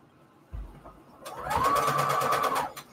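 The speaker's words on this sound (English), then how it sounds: "So straight stitching it." A sewing machine runs a straight stitch in a steady rapid burst for about a second after a brief thump, fairly close and without talk.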